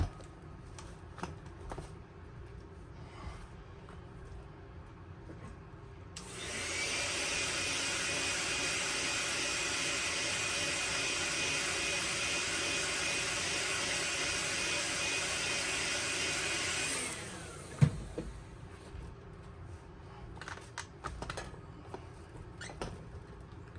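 A heat gun heat-setting paint on a fishing lure blows with a steady loud whooshing hiss for about ten seconds, switching on and off sharply between quieter handling clicks and small taps.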